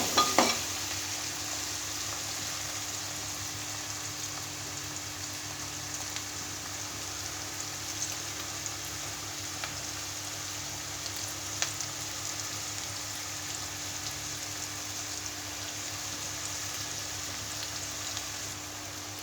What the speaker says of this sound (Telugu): చూడండి మంచిగా ఫ్రై అయింది ఆనియన్స్.